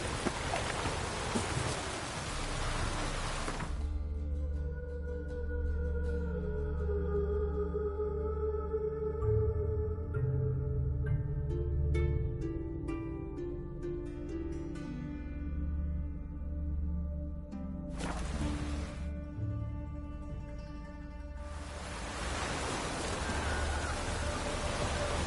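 Steady rain falls in The Witcher 3 as a continuous broadband hiss, with game music and ambient tones layered over it and brief gaps where the hiss drops out.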